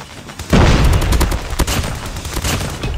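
Rapid automatic PP19 Bizon submachine gun fire in Call of Duty Mobile, a dense loud burst of shots rattling on for about two and a half seconds after a brief quiet start.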